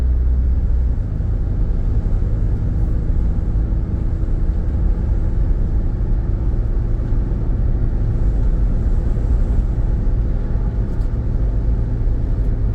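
A 2001 Toyota Highlander drives uphill, its engine and road noise forming a steady, low rumbling drone heard from inside the cabin for the whole stretch.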